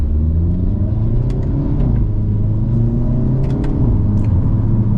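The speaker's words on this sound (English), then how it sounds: "let's set off now in the Elantra N." A 2026 Hyundai Elantra N setting off on a rainy day, its engine rumbling steadily and pulling away from inside the cabin, with faint clicks over the drone.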